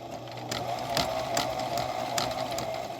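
A Husqvarna Viking 6690 sewing machine runs a zigzag stitch, humming steadily up close with fast rhythmic needle ticks and periodic clacks.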